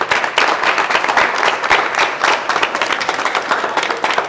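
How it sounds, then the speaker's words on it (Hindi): An audience at a network marketing event claps loudly and energetically, individual hand claps standing out in a busy, uneven burst lasting several seconds. "जोरदार तालियां बजा दीजिए थाईलैंड के लिए"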